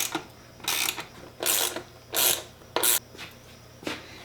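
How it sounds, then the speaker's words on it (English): A box wrench tightens a bolt during assembly of an e-bike, giving five or six short bursts of ratcheting clicks with brief pauses between strokes, close and clear with no talking. "with a number 12 box wrench, we'll tighten her on down"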